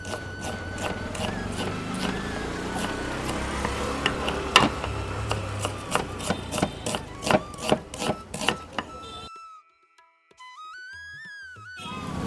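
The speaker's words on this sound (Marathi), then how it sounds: "कांदा आपला उभा कापायचा आहे, बारीक नाही करायचा आहे." A knife slices an onion lengthwise for chutney, giving a steady run of close, sharp cuts against a board that speed up toward the end, then stop for a near-silent pause before a faint electronic tone.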